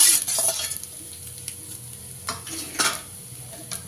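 Okra pieces sizzle in a pan among rice while a spoon stirs them, producing several distinct scraping strokes over a soft, continuous frying hiss.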